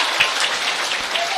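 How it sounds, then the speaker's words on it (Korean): Dense, steady clapping from a church congregation welcoming a new song written by the associate pastor, a continuous wash of hands without pause that stays even in level throughout. "새로운 신곡에 대해서 다시 한번 여러분들 환영의 박수 주시기 바랍니다."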